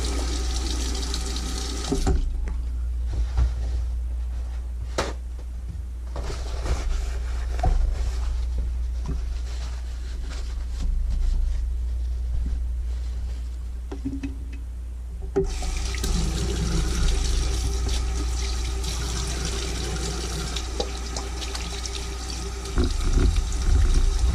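Tap water runs steadily into a sink, a continuous close splashing hiss that carries ink down the drain, briefly dropping away mid-clip before flowing strongly again.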